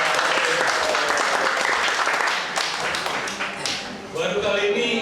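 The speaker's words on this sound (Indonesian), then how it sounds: "Tepuk tangan dong." A crowd at a health expo applauds, a dense, loud, continuous roar of clapping hands that holds steady, dips briefly near the end and swells back up.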